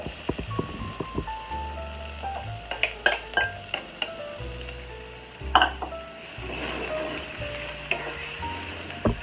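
Chopped onion sizzles and fries in a hot pan while a utensil stirs it, with steady frying hiss broken by scraping and clinking against the pan.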